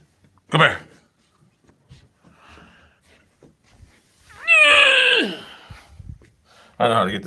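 A house cat meows loudly and close by, with a long drawn-out yowl in the middle and shorter cries at the start and end, separated by near-silence.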